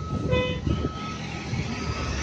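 Dump trucks laboring on a gravel road, a rumbling engine drone with a brief horn toot and tonal beeping near the start, continuing steadily afterward.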